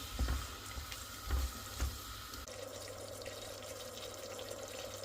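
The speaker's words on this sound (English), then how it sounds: "I'm just going to let that sort of turn that up a little bit for a couple of minutes, just sort of fry that off" Madras curry sauce frying in a pan on the hob gives off a quiet, steady sizzle, with a few soft knocks early on and no talking.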